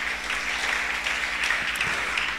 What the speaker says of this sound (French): Est-ce qu'on peut encore acclamer pour cette femme?